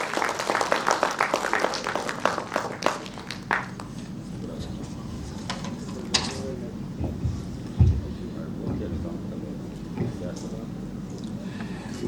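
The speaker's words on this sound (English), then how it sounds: "A round of applause for this gentleman," Applause from an audience at a gathering in Goa greets a guest speaker, a burst of clapping in the first few seconds that quickly thins and fades into a quieter room with scattered sounds.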